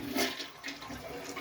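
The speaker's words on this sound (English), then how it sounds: "Look at that, it did a half flush." Dual-flush toilet doing a half flush after installation, a short rushing gush of water draining through the bowl, close and moderately loud, no voices.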